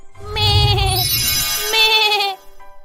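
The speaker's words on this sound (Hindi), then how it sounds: "वह बकरी बहुत बड़ी हो जाती है और चमकने लगती है और खूब तेज तेज चिल्लाने लगती है" A cartoon goat bellows loudly in a long, strained bleat with a couple of wavering breaks, close and dominant, then cuts off abruptly.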